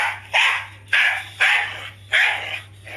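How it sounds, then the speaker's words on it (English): A dog barks four times in a steady rhythm, sharp and close, with a faint hum underneath. "Next one, dog."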